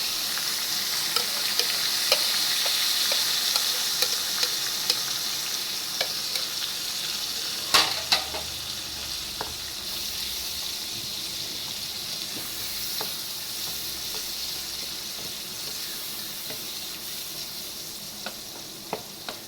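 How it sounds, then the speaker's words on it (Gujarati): Tomato and onion gravy, added to chilli and garlic paste, sizzles steadily in a pan while a spoon stirs it, with scattered scraping clicks and one louder clatter mid-way. "હવે આપણે ટમેટાં અને ડુંગળીની ગ્રેવી એડ કરી દઈશું."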